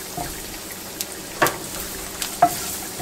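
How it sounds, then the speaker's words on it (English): Celery, raisins and cacao powder sauté in a pan with a low sizzle, broken by a few close clicks and scrapes of stirring. "we're going to saute this until the celery sort of starts to soften"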